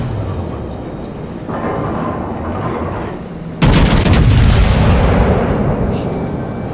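Warship guns firing shells in World of Warships, a dense roar of game battle noise that jumps into a loud, sharp salvo blast midway and then rumbles on with lingering booms.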